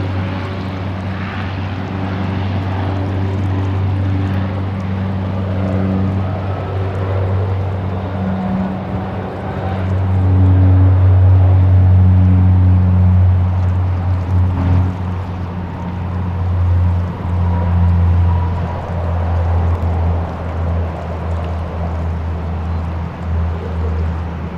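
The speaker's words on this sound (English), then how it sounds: "Rex 6836 to Dubbo has just been cleared for takeoff. The Saab there, runway 34 left" A Rex Saab turboprop taking off from runway 34 left at Sydney Airport gives a loud, steady propeller drone with a low hum, swelling midway and then easing off a little.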